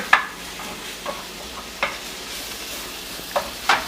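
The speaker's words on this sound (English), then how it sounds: "you're gonna give that a nice stir and just let it cook up" Spinach stirred in a cooking pan, with a few sharp scraping strokes spaced irregularly over a soft, steady background hiss.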